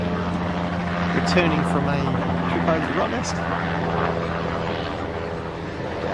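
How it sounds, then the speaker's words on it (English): A Crown Casino helicopter flies overhead at a WACA Premier Cricket T20 match, its steady rotor drone running continuously beneath a cricket commentator who talks throughout. "directly above me, the Crown Casino chopper is just"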